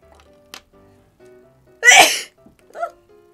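A single sharp, loud sneeze bursts out close by, framed by a few faint clicks and soft rustles in an otherwise quiet room.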